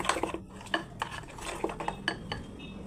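Semolina cake batter with vanilla essence being beaten in a metal bowl, a spoon clinking and scraping in quick irregular strokes, close and fairly quiet.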